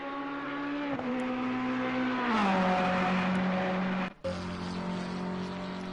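McLaren GT3 race car in a simulated endurance race at Mount Panorama, its engine a deep, steady low-pitched drone with rising and falling revs and a brief cut near the end as it shifts, loud and close with no talk.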